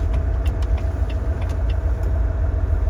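A car rolls slowly up a snowy California mountain pass where chains are required, its engine giving a steady low rumble with faint tire and road noise.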